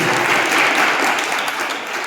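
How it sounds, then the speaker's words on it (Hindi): Audience applause at a religious discourse gathering, a brief burst of dense, close clapping that tapers slightly toward the end. "बहुत बढ़िया, जोरदार ताली बजाइए।"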